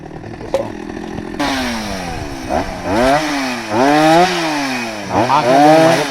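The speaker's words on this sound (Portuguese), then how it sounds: "Cortando lenha aqui, pessoal." Loud close chainsaw cutting firewood for a São João bonfire, its engine whining up and down steadily as the blade bites into the wood and revs again, with no talking.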